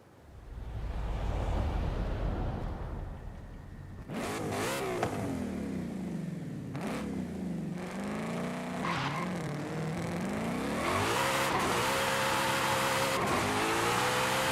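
A Ford Mustang GT500's engine in Forza Horizon 5, a continuous loud roar that swells through repeated revs and gear shifts, with rising and falling pitch sweeps as the car accelerates down a highway.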